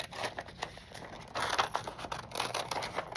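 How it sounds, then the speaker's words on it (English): Regular scissors cut through paper with quick crisp snips and crinkling rustles, close and fairly quiet, coming in an irregular run over a few seconds. "If you're gonna cut with regular scissors"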